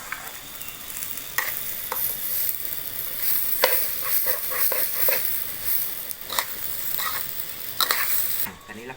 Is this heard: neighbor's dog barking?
no